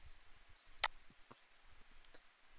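A single sharp mouse click on an on-screen OK button in desktop software, close and crisp over a quiet background, with a few fainter ticks after it.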